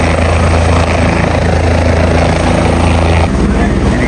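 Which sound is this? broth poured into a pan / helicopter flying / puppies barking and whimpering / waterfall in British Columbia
helicopter flying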